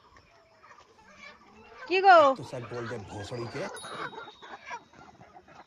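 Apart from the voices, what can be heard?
chickens clucking at a poultry farm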